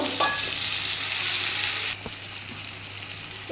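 Vegetarian soybean curry sizzles in a pan with turmeric, cumin powder, chili powder, a splash of water and a pinch of sugar while being stirred. The loud hiss drops to a quieter simmer partway through, with light scraping clicks.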